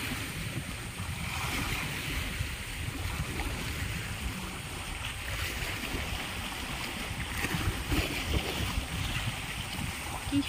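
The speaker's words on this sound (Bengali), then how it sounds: "আর ঢেউয়ের আওয়াজটা এত সুন্দর লাগছে।" Sea waves wash onto the shore by a village at dusk, a continuous broad roar of surf with gentle swells rising and falling, near and steady.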